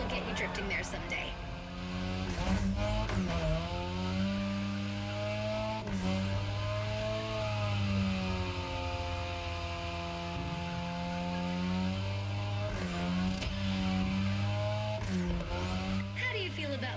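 A modded Mazda RX-7 in The Crew Motorfest video game, its engine droning and revving steadily with pitch swells and dips as it drifts, sounding close and continuous.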